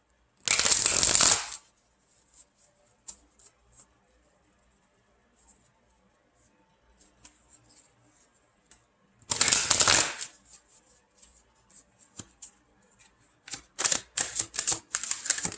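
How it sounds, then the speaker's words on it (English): A deck of tarot cards is shuffled in two loud riffling bursts separated by near silence with faint handling clicks, then cards are pulled out with quick snapping flicks at the end. "Let's pull some cards for the extended here."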